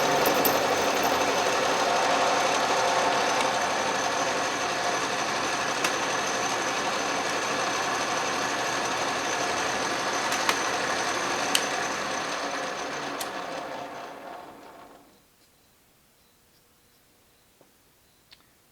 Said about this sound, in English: As you can see, the lathe runs great.